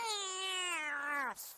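A single drawn-out cat meow from an adventure video game, clear and close, lasting just over a second and bending down in pitch at the end.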